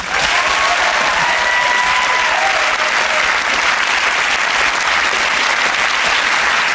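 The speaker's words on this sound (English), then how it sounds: "A round of applause for our stars." Studio audience at a TV comedy panel show bursts into sustained, loud applause that holds steady throughout, with a brief faint voice early on.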